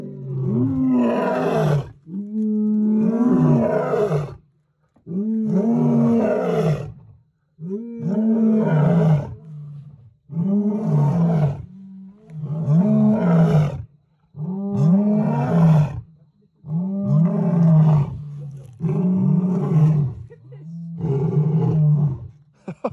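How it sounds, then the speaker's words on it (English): Three big male lions roaring in a camp at night, a long series of deep, loud roaring bouts, each swelling then fading into grunts, repeated at steady intervals with brief pauses between. "And they had a roaring show for us for 3 hours on New Year's Eve."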